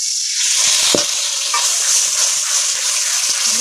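Spices and tomato sautéed in a pan for a Bengali wax gourd curry, a loud close sizzle of frying masala with occasional spoon scrapes and stirring knocks throughout.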